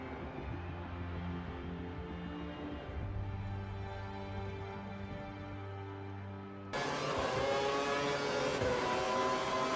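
A Formula 1 race car engine from a video game whines steadily on a qualifying lap, its tonal drone shifting pitch through gear changes before jumping to a louder, brighter scream near the end.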